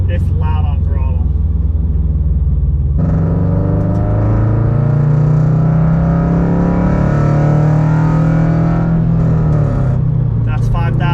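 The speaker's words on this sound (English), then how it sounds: "Going through the gears. It's loud on throttle." Toyota GR86 fitted with an over pipe and front pipe exhaust pulls hard through the gears, a loud droning engine note rising in pitch, dropping at a shift and climbing again, heard from inside the cabin with windows up.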